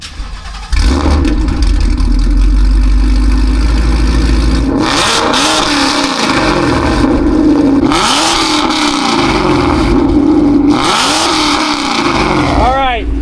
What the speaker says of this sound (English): Which one of these two cars is louder?